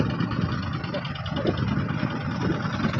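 A tractor idles and rumbles on a beach while pushing a fishing boat, its steady low engine drone continuing throughout under nearby talking.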